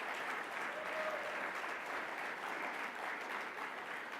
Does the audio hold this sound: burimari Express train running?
no